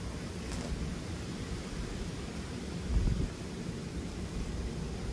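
Steady outdoor wind roars and buffets against the microphone, a low rumbling wash with a brief stronger gust near the middle and no voices.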